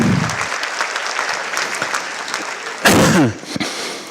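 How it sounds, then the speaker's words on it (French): An evening crowd of several hundred people applauds in a large hall, a dense, even wash of clapping that carries on steadily, with one brief sharper burst partway through. "Oui, applaudissez-vous."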